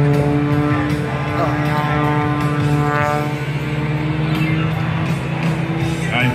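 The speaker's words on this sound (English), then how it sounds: "you can hear this, the airplane start accelerating" A loud airplane engine drones steadily and continuously at an air show as the plane accelerates, its tone holding even throughout.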